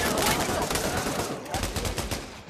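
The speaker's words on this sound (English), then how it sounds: "Stop shooting people, please." Rapid gunfire in the Pavlov VR shooter game, loud dense bursts of shots in close succession, with voices talking over it.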